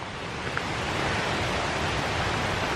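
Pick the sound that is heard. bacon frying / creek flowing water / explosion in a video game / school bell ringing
creek flowing water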